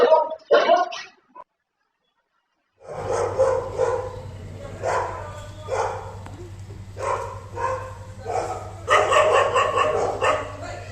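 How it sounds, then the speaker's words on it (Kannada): Street dogs attacking a family, caught on CCTV, bark in a rough, agitated series of yelps and woofs after a short silence, with a low steady hum underneath and no talking. "ಗುಂಪು ಕಟ್ಕೊಂಡು ಬಂದು ಒಂದು ಕುಟುಂಬದ ಮೇಲೆನೆ ಅಟ್ಯಾಕ್ ಮಾಡಿರುವಂತ ಬೀದಿ ನಾಯಿಗಳು."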